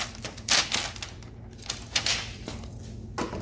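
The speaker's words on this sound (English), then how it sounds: "I want to peel this window tint the tint that I attached to itself. I'm going to peel it apart" Wet window tint film that has stuck to itself is pulled apart in short bursts: several crackly, sticky peeling rips with pauses between them, close to the microphone and fairly loud.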